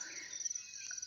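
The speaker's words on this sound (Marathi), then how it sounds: "सकाळी सकाळी पाखरं एवढे आवाज करतात ना, आणि त्या पाखरांचा आवाज ऐकणं म्हणजे एकदम सुंदर अनुभव." Early-morning birds chirp faintly in the distance, high thin calls over a steady insect-like trill, with no one talking.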